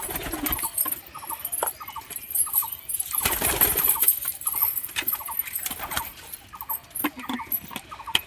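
Pigeons in a loft at feeding time, soft cooing and fluttering with scattered rustles and light clatter, moderately close and continuous, no speech.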